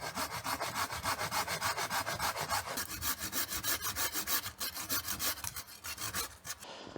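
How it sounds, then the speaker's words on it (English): A hand saw cuts through a log of dry wood in steady, rapid back-and-forth strokes, each stroke a rasping scrape, loud and close, continuing without pause for the whole stretch. "And then I'll saw off a log"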